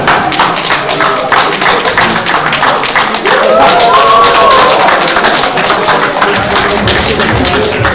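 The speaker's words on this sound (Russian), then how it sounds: "И ваши аплодисменты команде Парниаполь." An audience breaks into dense, sustained applause for team Parniapol at a prize ceremony, rapid claps filling the whole stretch loudly and close, with a brief voice or tone rising through the middle.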